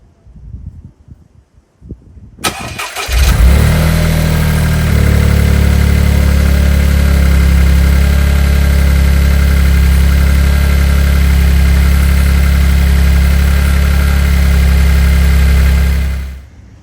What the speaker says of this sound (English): So I just did that startup. Everything sounds fine.